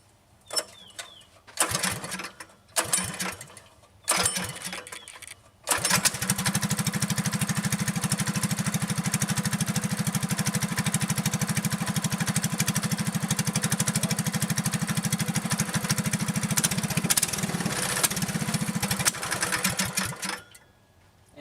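A few short sputtering tries, then a small go-kart engine with a custom welded header catches and runs steadily and loudly with a buzzing, rattling drone before cutting off near the end.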